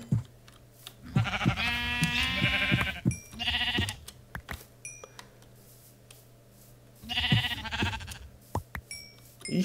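Sheep in Minecraft bleat in a few wavering, nasal calls, two clustered early and one later, over a steady electronic hum with faint clicks between.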